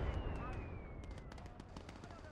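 Bursts of automatic gunfire and scattered shots from the World War II game Call to Arms Gates of Hell Ostfront, a Last Stand battle, rattling steadily at mid distance with a voice talking over the action.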